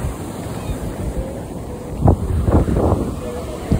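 Waves and wind at a beach in Mubarak village, Karachi, with a steady wash of surf and wind buffeting the microphone, a few louder splashes near the end and voices talking faintly underneath.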